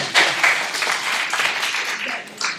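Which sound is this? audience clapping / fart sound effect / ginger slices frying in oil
audience clapping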